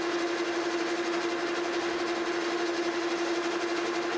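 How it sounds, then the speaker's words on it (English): Drill bit boring a 3/8 inch clearance hole into a clutch bushing for a Monarch Model K lathe, a steady close machine whine with a constant pitched hum, continuous and even throughout with no talk. "Then we're going to drill us just a clearance hole here to get the hole started with."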